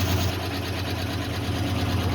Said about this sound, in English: you hear a fuel pump kicking?